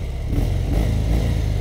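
A 2017 Harley-Davidson Dyna Fat Bob V-twin rumbles loud and close, its low engine note swelling slightly as it revs, with no voices over it.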